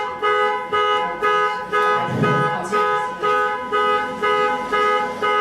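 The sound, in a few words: alarm going off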